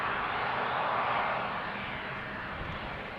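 An Embraer E195-E2 jet takes off from Amsterdam Schiphol, its engines producing a loud, broad, steady roar heard from a distance that slowly eases in volume.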